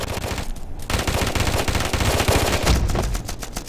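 Gunfire in the shooter game Afterpulse: loud, sustained bursts of rapid automatic fire running almost without pause, close and dominant.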